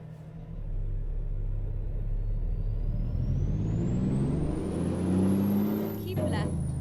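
Kenworth K200 truck in American Truck Simulator pulling away in fourth gear under a heavy load of about 70,000 pounds, with a deep steady engine rumble that builds as revs climb and a rising whine over the top. A voice speaks over it.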